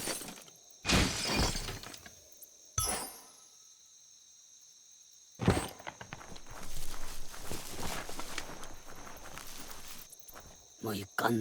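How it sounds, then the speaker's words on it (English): A box smashed apart in Biomutant gives sharp cracking, shattering bursts, followed by scattered clattering debris and a stretch of busy rustling noise, fairly close with quiet gaps between. "You shouldn't worry about smashing up the box."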